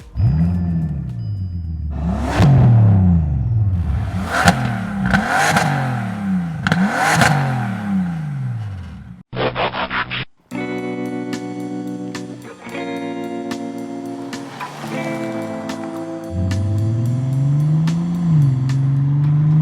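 A Bentley Continental GT Speed Black Edition convertible's W12 engine fires up and gives four or five loud, rising revs in quick succession, before a short break and a different steady sound.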